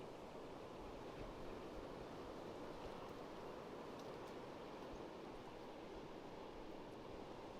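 Ocean surf rolls in steadily at Pawleys Island at sunrise with the tide coming in, a soft, continuous wash of broad noise heard from a distance, faint and unbroken, with no talking.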